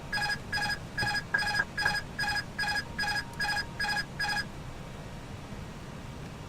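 Repeating electronic chime in an Airbus A319 cockpit in a Prepar3D flight simulator, the autopilot disconnect warning, about ten evenly spaced beeps over cabin hum before it cuts off.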